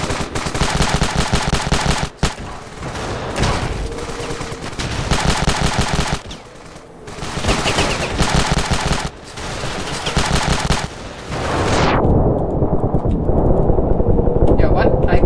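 Rapid automatic gunfire from the battlefield game Ravenfield, long bursts of dense shots broken by short pauses, loud and close, with a brief quieter spell before firing resumes and then stops into a steady rumble.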